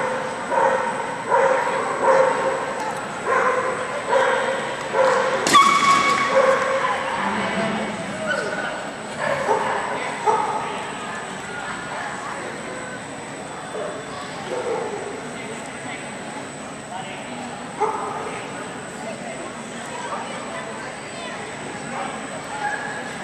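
A dog barks and yips repeatedly at a distance, in short uneven bursts across the clip, with people talking intermittently over an outdoor background hum.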